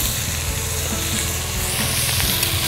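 Bacon and a beef patty frying in a pan, a steady close sizzle that stays loud and unbroken, with faint stirring or scraping clicks now and then.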